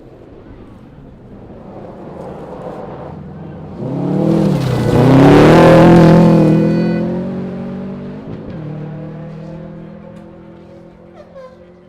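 A rally car on a forest stage of the 2012 100 Acre Wood Rally approaches, roars past loudly with revving engine and gear changes, then fades into the distance.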